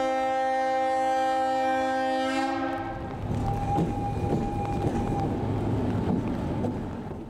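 Freight container train arriving at Kolyadichi station near Minsk: a long, loud multi-tone horn blast fades out, then heavy rolling wheel rumble and clanking carry on steadily, with no talk.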